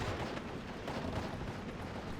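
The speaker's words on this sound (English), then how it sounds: "50mm mortar coming in with the shots though" In the Steel Division wargame, 50mm mortar rounds and gunfire form a dense, rumbling battle din of overlapping bursts with no clear pauses.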